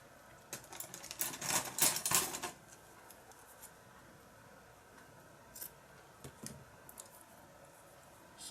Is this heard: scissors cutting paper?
yes